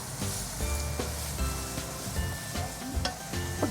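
Garlic, onion and ginger sauté in hot oil in a pan for Filipino mung bean stew with pork hock, giving a steady close sizzle with light scraping and stirring clicks, with faint tonal sounds running underneath.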